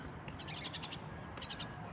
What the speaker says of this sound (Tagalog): Ibon.